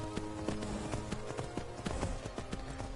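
Horse hooves gallop in a video game, a quick, steady clip-clop of hoofbeats that runs the whole time over a busy game soundscape, with no talking.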